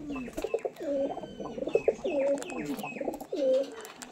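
Pigeons of fancy breeds cooing, a series of repeated throaty coos in rhythmic bursts, fairly close and moderately quiet, with faint background voices.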